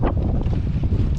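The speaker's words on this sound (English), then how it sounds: "It's really windy." Strong wind buffets the microphone outdoors in a loud, rumbling low roar with gusty fluctuations over a brief moment, and no voices are heard.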